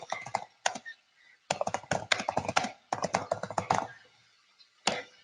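Rapid clacking keystrokes on a computer keyboard come in several close bursts with short pauses between them while a message is typed in an office setting.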